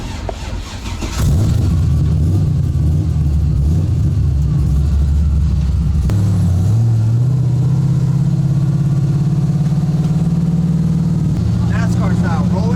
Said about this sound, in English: we are about to go out into an oval track race with our drift cars.